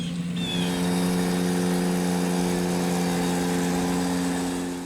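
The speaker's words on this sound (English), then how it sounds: "the Ventrac is a perfect machine to operate in those areas" A Ventrac tractor mower runs steadily while cutting grass on a rutted solar field, its engine humming loudly and evenly throughout with no voices.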